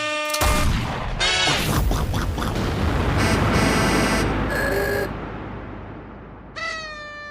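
A loud crashing boom and a burst of blaring, honking tones come one after another, dropping to quiet before a short squealing tone at the end.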